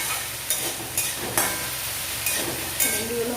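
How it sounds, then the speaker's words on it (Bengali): Okra (bhindi) frying in mustard oil in a home kitchen, a steady close sizzle broken by several sharp scraping stirs at a regular pace. "ভিন্ডিগুলো ভাজতে দিয়েছি"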